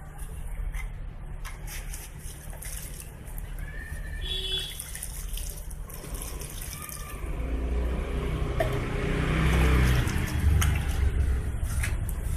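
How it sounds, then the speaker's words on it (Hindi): Water is poured into a potted plum sapling being grown as a bonsai: a soft splashing trickle that swells into a louder, steady gush in the second half, close by, with no voices. "और अब मैं इसमें पानी डाल देता हूँ"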